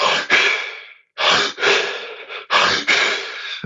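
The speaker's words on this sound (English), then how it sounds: "So 30 is good, but it's like a rapid breathing" Rapid, deep breathing drawn into the belly and chest, with quick forceful inhales and exhales in three close bursts separated by brief pauses, loud and near, no talk.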